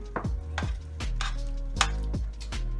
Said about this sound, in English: we'll go ahead and add the sauerkraut. Okay, we'll stir that up